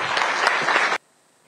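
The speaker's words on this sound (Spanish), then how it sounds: "Un aplauso." Audience applause at a political talk on the DANA flood disaster in Spain, a dense burst of clapping for about a second that cuts off abruptly into silence.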